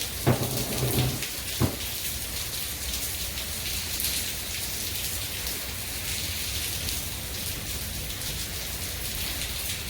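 Steady rain hisses continuously, with a couple of brief knocks near the start and a soft low rumble underneath.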